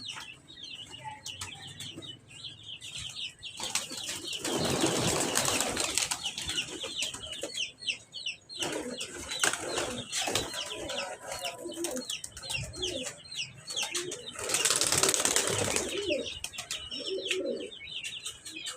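Pigeons kept at a home loft are released in hot weather, giving bursts of wing flapping with cooing and chirping birds around, a louder flurry near the end and no talk.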